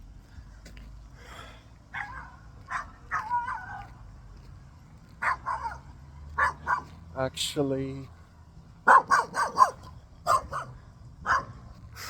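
A small dog barks in short, sharp yips scattered through the clip, mixed in with a person speaking nearby.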